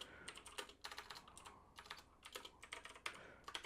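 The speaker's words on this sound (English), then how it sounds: "I need to type slower when I'm doing these tutorials" Typing on a computer keyboard while writing beginner Ruby code for a text game produces quick, irregular clusters of crisp key clicks, close and fairly quiet, with short pauses between bursts.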